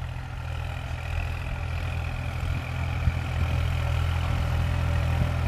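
A New Holland TT3.50 tractor engine runs steadily in first gear at just over 1000 rpm, a continuous low heavy diesel drone with constant loudness and no talk.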